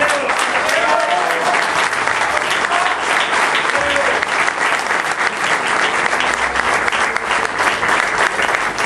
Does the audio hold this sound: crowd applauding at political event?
yes